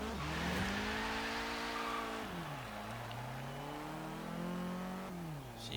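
A 1983 Volvo 242 Turbo in the racing game Forza Horizon 3 revving and accelerating through gear changes, its engine note climbing, dropping at each shift and climbing again, loud and steady with no talk.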